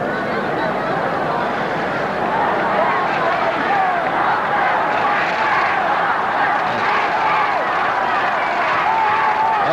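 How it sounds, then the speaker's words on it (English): Tottenham Hotspur supporters' roar at a 1964 West Ham United match builds as a broad, sustained crowd din, loud and continuous throughout with a commentator talking over it. "This is the Tottenham roar starting."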